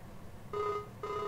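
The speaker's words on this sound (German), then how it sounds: "Telefon jetzt wieder." A telephone in a farming simulator game rings twice in a short electronic tone, fairly loud and close, with no talking.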